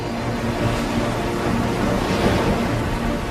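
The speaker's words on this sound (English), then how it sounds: "the waves barrel into a driving current from the northeast, which stacks them up into immense walls of water" Open-ocean waves and heavy swells stacking up against a strong northeast current, a dense, continuous roar of surf and rushing water with wind, loud and unbroken throughout and with no voices.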